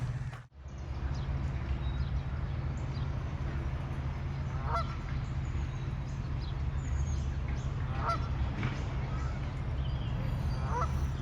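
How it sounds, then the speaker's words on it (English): Canada geese honk in a few scattered calls, faint to moderate and somewhat distant, over steady low wind or water rumble by a reflective lake along the Appalachian Trail. "Canadian geese."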